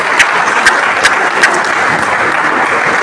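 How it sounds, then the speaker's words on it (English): Loud, sustained applause from a conference audience at an engineering and earth sciences opening ceremony, forming a dense wall of clapping with a few sharper individual claps standing out. "Please give him a round of applause."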